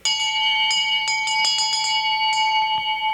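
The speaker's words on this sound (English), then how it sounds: "Can we hear that? Because it's a long time since I heard one of those bells." A hand bell rings repeatedly and loudly, with bright, sustained metallic tones and a quick irregular series of strikes that keep sounding throughout.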